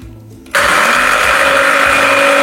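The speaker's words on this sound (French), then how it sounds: "j'espère que ça va mixer parce que j'ai un peu de doute avec ce petit mixeur que ma mère m'a offert" A small blender whirs steadily as it mixes wild garlic vegan pesto, switching on abruptly after a brief quiet start and holding a loud, even motor whine with no talking.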